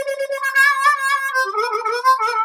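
A diatonic harmonica played with a lip-pursed embouchure gives strong, close, sustained reedy notes that shift pitch in a short melodic phrase, loud and alone.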